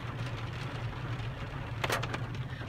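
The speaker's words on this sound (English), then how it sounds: "It's pouring." Heavy pouring rain drums on a car from inside the cabin on a wet drive, a constant dense patter over a low engine hum, with a brief louder burst of splashing near the end.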